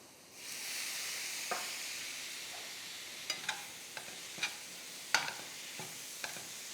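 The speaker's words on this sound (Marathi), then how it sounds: "त्याला छान परतून घेऊ." Steady frying sizzle of ginger and tomato in a pan, with a few sharp clinks and scrapes of a spatula stirring at irregular moments.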